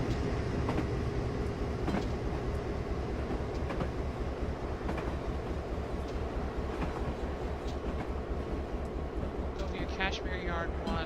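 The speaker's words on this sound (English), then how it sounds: "Getting passed by another train." Another train rolls past in a train simulator game: a steady, close rumble with a rhythmic clickety-clack of wheels over rail joints, loud and continuous throughout.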